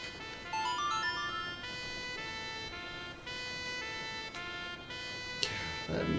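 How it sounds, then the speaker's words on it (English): A royal trumpet in the video game Majora's Mask plays steady sustained tones with shifting pitches, moderately loud and continuous through the whole stretch, with a brief burst of noise near the end. "It's a royal trumpet, dude."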